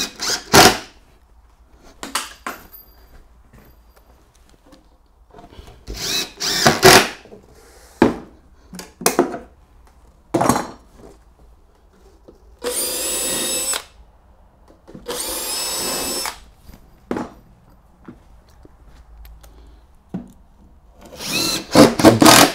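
Power drill driving screws through stair risers into the blocks behind on a straight-flight staircase kit, heard as several separate whirring bursts of varying length, with two longer steady runs in the middle and pauses between them.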